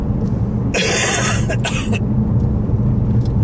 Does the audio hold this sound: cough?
yes